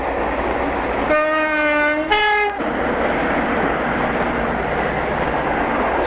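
A passenger train runs on rails through the suburbs toward Euston Station, a steady rumble throughout broken by two loud horn blasts near the start, the first held longer than the second.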